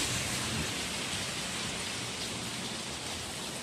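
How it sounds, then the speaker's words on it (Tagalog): Steady rain falling in Baguio City, Philippines, a dense even hiss that holds constant throughout with no voices. "It's raining."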